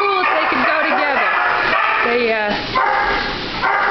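Several dogs at an animal shelter bark, yip and whine loudly and continuously, with the barking overlapping throughout at close range.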